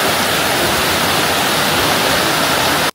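A small waterfall beside the Tirumala temple stairway footpath gives a close, steady, full rushing roar that stays even throughout and then cuts off abruptly at the very end.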